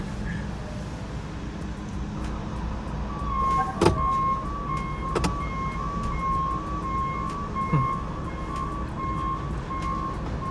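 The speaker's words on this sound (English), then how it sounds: "We're fighting traffic" Steady road traffic rolls past a housing development under construction in Gastonia, North Carolina, a continuous low rumble of cars and trucks with a faint repeating beep and a couple of brief sharp knocks.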